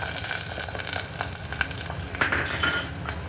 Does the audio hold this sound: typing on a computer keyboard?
no